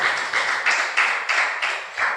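A church congregation claps to glorify God, with a steady rhythm of about seven broad bursts of applause in a large room and no voice over it.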